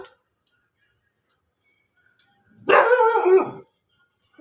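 A dog gives one loud, close bark lasting about a second, alone against near silence.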